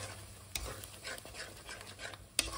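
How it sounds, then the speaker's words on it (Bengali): Beaten yogurt being stirred into a frying cashew paste in a pan for Bengali doi katla, with a soft continuous scraping and faint sizzle under a couple of sharper spoon knocks against the pan. "দইটা দিয়ে না কন্টিনিউয়াস নাড়াতে হবে, না হলে তোমার দইটা ফেটে যাওয়ার চান্স থাকবে।"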